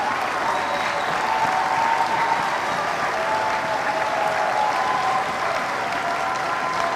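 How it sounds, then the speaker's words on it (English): Steady, loud applause fills a high school commencement ceremony as the crowd thanks standing parents, dense continuous clapping from a large audience with a voice faintly underneath. "Please stand so that we may thank you with a round of applause."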